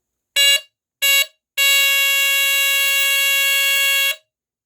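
A First Alert SA77RF smoke alarm sounds loudly and up close: two short piercing beeps, then one long continuous shrill tone lasting a few seconds, with no voices.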